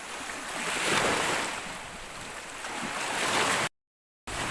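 Sea waves wash onto an island beach in steady, loud surges with wind buffeting the microphone; no voices, and the sound cuts out briefly near the end.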